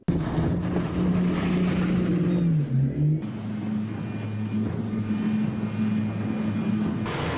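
A military speedboat pounds through waves at high speed, its engine droning loud and steady, wind roaring across the microphone and water rushing past the hull, with the engine pitch dipping and shifting partway through.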